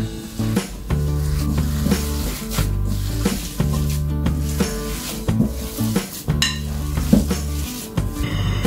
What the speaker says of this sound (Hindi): और ये सारी चीजों को हम अच्छे से मिक्स कर लेंगे